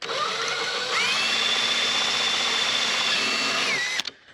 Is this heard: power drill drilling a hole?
yes